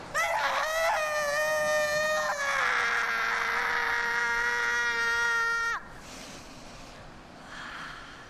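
A woman lets out one long, loud, sustained scream in a Spanish-language comedy film. It holds steady for several seconds, sliding slightly in pitch, then cuts off abruptly, leaving quieter room noise.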